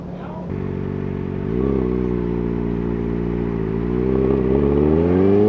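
A Kawasaki ZX-4RR motorcycle engine revs while riding. The close, loud whine holds steady, then climbs in pitch in two stages as the throttle opens.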